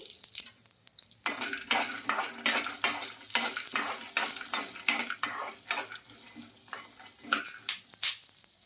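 Steady sizzling of peanuts frying in oil in a pan, with repeated scraping and stirring clinks of a utensil throughout; no voices.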